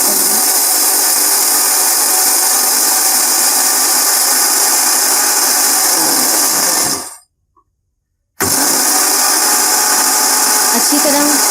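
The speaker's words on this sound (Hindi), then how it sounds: "थोड़ी सी चीनी लेके उसे ग्राइंडर में डालकर ग्राइंड कर लें, उसका पाउडर बन जाएगा।" An electric kitchen grinder pulverizing sugar into powder, a loud, steady high-pitched motor whir that cuts off for over a second and then starts again at full strength.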